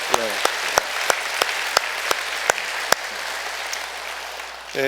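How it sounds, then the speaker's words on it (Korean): Church congregation at a Sunday worship service applauding the choir: dense, steady clapping from a crowd with sharp individual claps standing out roughly every third of a second, fading out near the end. "우리 한번 박수로 저희가 성가대원들 감사하기 원합니다"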